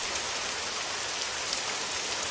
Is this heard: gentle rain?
yes